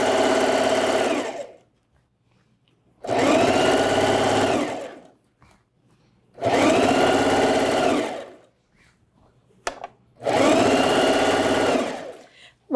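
A sewing machine stitches fabric with a short backstitch in four bursts of steady running, each about one to two seconds long and separated by pauses, loud and close.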